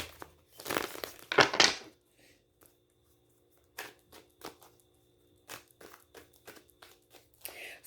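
Tarot cards are shuffled by hand in short bursts, a louder riffling rush early on, then scattered soft slaps and flicks with quiet gaps between, close and clear.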